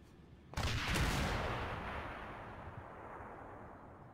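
Enemy fire in a post-apocalyptic wasteland video game: a sudden loud blast of gunfire hits, then rolls off into a long, fading rumble.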